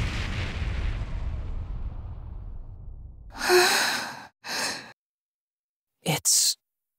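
Distant cannon fire in Ys X: Nordics, heard from indoors as a deep rolling rumble that slowly fades over a few seconds, followed by quiet and then several breathy sighs or gasps from a person.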